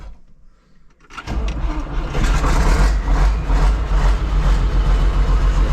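After a second of near quiet, the heavy engine of a Massey Ferguson 3690 tractor cranks and catches, then settles into a loud, steady rumbling idle.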